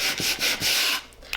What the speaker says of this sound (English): we're gonna take our sanding block with our 80 grit sandpaper and we're gonna distress our piece.